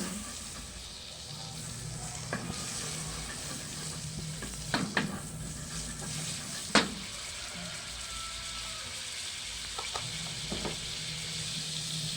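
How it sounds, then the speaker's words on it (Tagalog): Tofu fries in margarine in a pan with a quiet, steady sizzle, broken by occasional scraping and clinking of a utensil stirring the pan. No one speaks. "mild lang ang nilalagay ko guys na pinaprituhan ko na lang ito"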